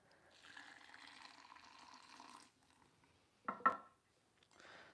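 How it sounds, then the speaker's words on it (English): Coffee is poured into a cloth coffee sock for kopi, a soft faint stream of liquid for a couple of seconds, then a brief louder splash and trickle before a final quiet pour. "now we are going to pour this into our coffee stock"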